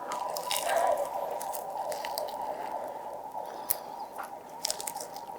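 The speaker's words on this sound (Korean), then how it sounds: "윙 한번 먹어보겠습니다" Someone bites into and chews a crisp, thin-battered Kyochon fried chicken wing up close, with wet squishy chewing and a few sharp crunches, alone against a steady background hum.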